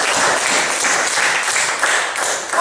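A church congregation clapping together as an offering to God, steady broad applause filling the room for a few seconds with a faint voice or two mixed in.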